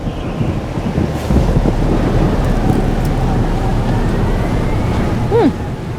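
Stormy weather in the video game Life is Strange: Double Exposure, a loud, dense roar of wind and rumbling thunder that stays heavy throughout, with a brief rising tone near the end.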